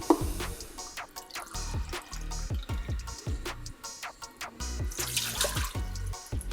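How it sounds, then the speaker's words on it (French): Water splashes and trickles into an Instant Pot (Mealthy Multipot) inner pot fitted with its trivet as a cup of water is poured in, a close, steady running pour with small clinks and drips, no talking. "on va mettre une cup d'eau."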